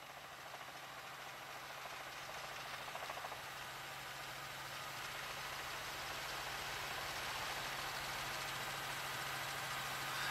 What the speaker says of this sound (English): And they're up over it, the Firebird helicopter.